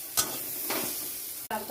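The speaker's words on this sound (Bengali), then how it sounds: "এবার সামান্য লবণ দিয়ে টমেটোটাকে ভাজা করছি" Tomatoes fry with a little salt in a pan, a soft steady sizzle broken by a few brief stirring scrapes, close and moderately loud.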